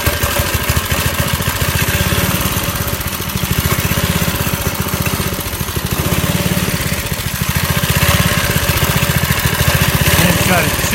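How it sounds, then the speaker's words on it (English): A vintage mini bike's Briggs & Stratton 2 hp engine runs steadily after a cold start at 35 degrees, a loud, close, rapid putter that holds a constant idle throughout with slight swells in volume. "But I'll give you guys a quick cold start. Let this motor run for maybe a minute or two."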